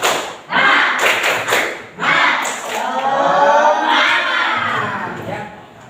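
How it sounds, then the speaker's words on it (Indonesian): Schoolchildren in a fifth-grade class perform a tepuk semangat clapping chant, loud bursts of rhythmic group claps mixed with shouted chanting voices, several sharp clap volleys then a sustained crowd cheer. "kita sama-sama tepuk semangat"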